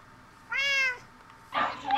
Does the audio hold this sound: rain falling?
no